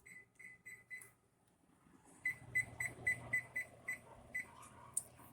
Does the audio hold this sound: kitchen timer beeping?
yes